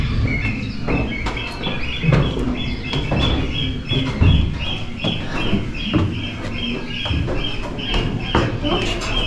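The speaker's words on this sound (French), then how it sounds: "Ah bah c'est lui l'oiseau qu'on entend." A bird calling near a staircase, repeated high chirps recurring at fairly regular intervals over a busy outdoor background of low rumble and occasional thuds, with voices nearby.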